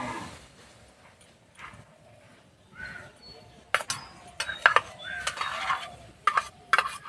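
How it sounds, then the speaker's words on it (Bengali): Palm fruit pulp goes into a wok and is stirred. The start is quiet, then a run of close scraping strokes and sharp metallic clinks against the wok follows, spaced irregularly, with no speech. "এবার তালের মাড়িটা কড়াইয়ে দিয়ে দেবো"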